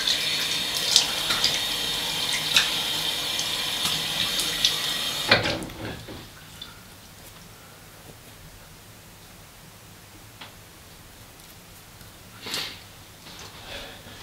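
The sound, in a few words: water running from tap while rinsing off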